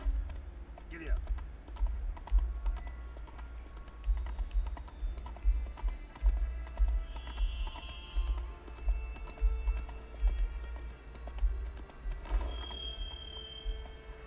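A horse in the video game Witcher 3 gallops with a steady rhythmic clip-clop of hooves throughout, fairly quiet, with faint higher game sounds drifting in and out.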